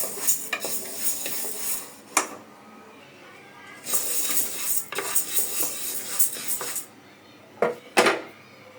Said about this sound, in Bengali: এখন আমি ডালটা একটু ভেজে নিই